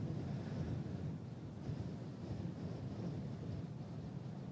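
Wind buffets a microphone outdoors at Christchurch Airport on a gusty summer evening, a steady, fairly loud broadband rush and low rumble that holds constant for the whole stretch with no voices.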